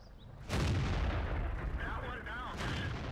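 A Type 59 tank cannon fires in World of Tanks on the Westfield map, a sudden loud boom followed by a long rumbling tail that fades slowly, with faint whistling game effects overhead.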